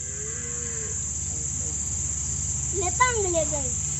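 A cow moos once, a rising then falling low call, heard over steady background hum and insect chirping, at a rural Maharashtra Pola bullock festival.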